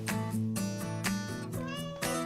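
A cat meows repeatedly on a ranch, a series of loud, close, drawn-out tonal cries in quick succession with no talking.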